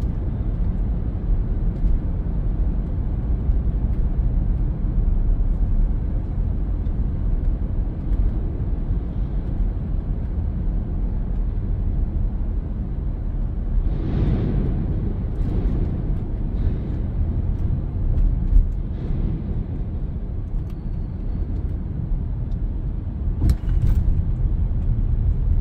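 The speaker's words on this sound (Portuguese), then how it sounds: "Vocês estão vendo aí o tanto de carro entrando." Steady, dense rumble of many cars streaming through a large enclosed road tunnel, a continuous low roar with a few louder passing vehicles swelling briefly, no voices.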